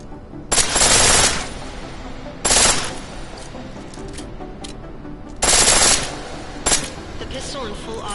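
Automatic weapon fire in the video game Deus Ex comes in several loud, rapid bursts of varying length, some long and some brief, separated by quieter gaps with a low background hum.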